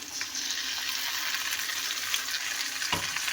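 Continuous frying hiss from a hot pan as a ground paste of green chilli, tomato and ginger is sautéed, with faint scraping, steady throughout and ending with a short low knock.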